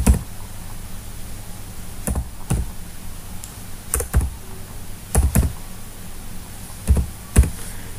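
Clicks of a computer keyboard as an Aadhaar card number is keyed in, arriving in short separate bursts of a few keystrokes with quiet gaps between them, close and clear, with no talking.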